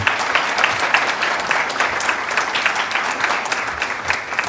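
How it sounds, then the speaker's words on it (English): Audience members at a Seattle cybersecurity event panel applaud volunteers with a lively, continuous clapping from a sizable crowd, fairly loud and steady with individual claps popping through the wash. "let's give a round of applause to these great folks that are volunteering their time"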